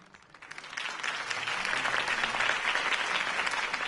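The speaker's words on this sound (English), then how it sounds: "If only Mr. Wayne, my campaign's largest backer, could have heard that applause" Crowd applause after a campaign speech in a Batman video game, rising quickly from a few claps into a full, steady ovation that holds strong to the end.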